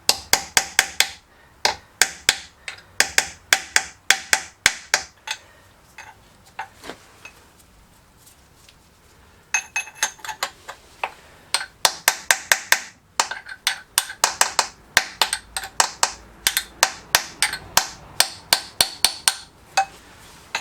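A small hammer taps a small chisel while servicing an ML6C car gearbox, in quick bursts of sharp metallic strikes, pausing briefly midway before resuming steady, close, ringing blows.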